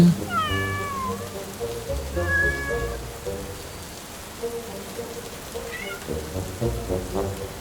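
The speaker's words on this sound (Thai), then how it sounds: "เหมือนเสียงลูกแมวเลย" A kitten gives three thin, high-pitched meows spaced a few seconds apart, over a steady patter of rain.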